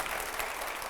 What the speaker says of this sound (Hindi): और जोरदार तालियां हर जवाब पर दिखाइए जरा